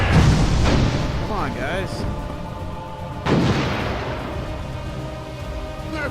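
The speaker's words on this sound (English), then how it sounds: "Right cannons ready. Left cannons loaded." Ship cannons booming in the VR naval game Furious Seas, a heavy blast at the start and another about three seconds later, with someone talking over the shots.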